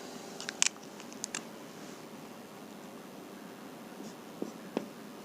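Writing on a board during a biology lesson: quiet, scattered scratches and taps of short strokes, a few brief clusters near the start and two more near the end, over faint steady room noise.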